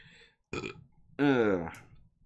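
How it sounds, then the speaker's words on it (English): A loud, voiced burp rolls out for about half a second, close to the mic, following a shorter guttural burst during a casual indoor model-building livestream. "Excuse the burp."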